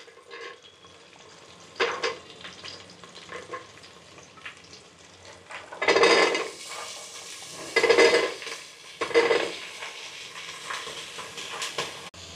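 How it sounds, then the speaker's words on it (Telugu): Vegetables fry in ghee while being stirred, with a gentle sizzle and several louder bursts of scraping and stirring in the pan. Light clinks of a utensil against the vessel come in between. "ఇవి మంచిగా నెయ్యిలో వేగేసినాయి."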